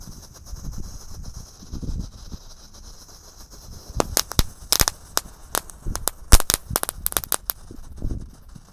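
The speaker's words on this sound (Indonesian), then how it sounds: "Jadi seperti itu mercon disco yang pretek warna biru" Blue crackling disco firecrackers burst inside a water jug, first a muffled quiet stretch and then a rapid, irregular run of sharp cracks and pops that is loud and close.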